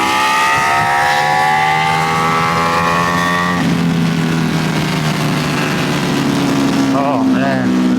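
A BT Moto tuned Ducati Panigale V4S engine drones loudly while riding, holding a steady note that drops as the revs fall, with a short rising rev blip near the end.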